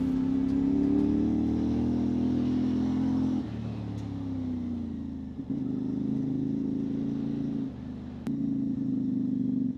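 CFMOTO 450MT adventure motorcycle ridden off the main road into a forest in the Australian Alps, its engine droning loud and steady close by, with the pitch dipping and rising as the rider shifts and changes throttle.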